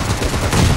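A burst of gunfire in the battle royale game PUBG, a short dense rattle of shots close and loud, with no voices.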